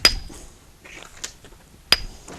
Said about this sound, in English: Using a hammer stone. Driving down on it.